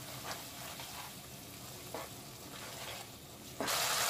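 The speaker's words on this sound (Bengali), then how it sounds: "দিয়ে ভালো করে একটু কষিয়ে নিব" Spices for a cauliflower chicken curry fry quietly in a pan with a low sizzle and a few brief scrapes, then a louder burst of hissing at the end.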